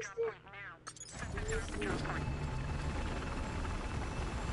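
A helicopter in the Battlefield Hardline video game, a dense, continuous rotor and engine roar that comes in abruptly after about a second and holds steady to the end, with brief speech-like sounds at the start.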